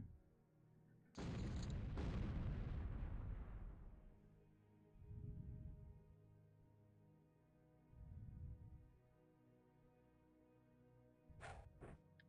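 A grenade goes off in OpenXcom with the WH40k mod, one loud deep blast with a long rumbling decay, followed by two softer low thuds and a short crackle near the end.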